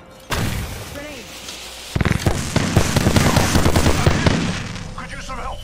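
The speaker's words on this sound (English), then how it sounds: "Grenade!" A grenade blast in Apex Legends bursts out loud and sudden, followed by a dense rattle of gunfire and impacts, with a character voice calling out under the action.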